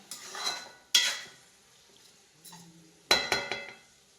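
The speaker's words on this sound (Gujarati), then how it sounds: "હવે મિક્સ કરી દેવાનું અને હવે ચડવા દેવાનું" A spoon scrapes and clinks against a pot while tomato sev curry is stirred, with a few sharp metallic knocks and softer scraping strokes in between, fairly close and without talk.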